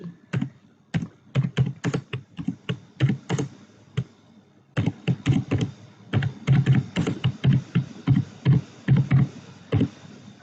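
Computer keyboard typing HTML code in quick, irregular clusters of close, crisp key taps, with a brief pause midway before the typing resumes.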